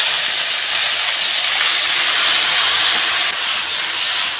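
Marinated vegetables and small fish drop into hot oil that has been frying onions, giving a loud, close, continuous sizzling hiss that stays strong throughout.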